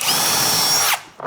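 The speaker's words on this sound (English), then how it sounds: "Pre-drill. I'm gonna do both of these." A power drill bores a pilot hole through wood for a chicken coop: about a second of loud, steady high-pitched whine. It then cuts off abruptly, followed by a brief faint clatter.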